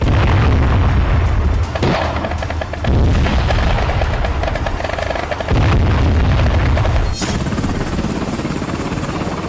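Dense, loud bursts of gunfire and booming blasts overlap continuously, with a sharp crack near the end; a chaotic, sustained barrage with no voices.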